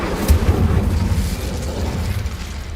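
Confringo spell explosion in a Harry Potter video game: a loud, deep boom with rumbling low-end burst at the start, settling into a sustained heavy rumble.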